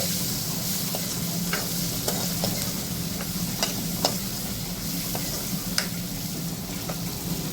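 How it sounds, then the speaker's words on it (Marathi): Steady hiss of green chilies frying in turmeric oil, with scattered stirring clicks of a utensil against the pan, close and continuous, no talking. "आता त्याच्यामध्ये ह्या मिरच्या टाकते मी."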